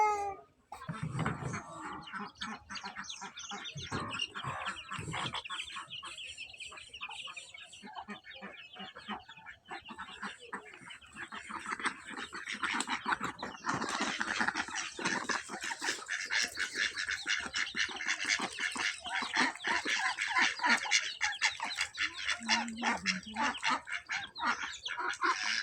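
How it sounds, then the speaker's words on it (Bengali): Village ducks and other fowl call and quack at a distance over about twenty-five seconds, growing busier and denser in the second half against a steady outdoor background. "হাঁস তো চলে যাইতেছে আদার না খাইয়ে।"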